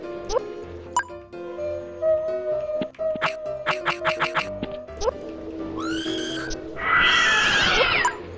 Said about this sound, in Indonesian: Itu kucing ngapain?